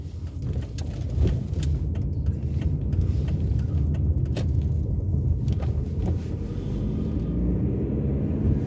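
A car driving along a suburban road on a winter day, a continuous loud engine and tire rumble heard from inside the cabin, steady throughout with no voices.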